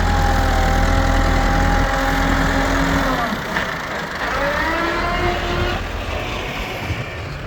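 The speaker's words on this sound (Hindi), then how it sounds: "ये ट्रैक्टर मैसी फर्गूसन 385 हैं और ये बहुत ज़्यादा ताकतवर होते हैं" A Massey Ferguson 385 tractor engine runs steadily nearby, a loud low diesel drone with a slight drop in level partway through, no talk over it.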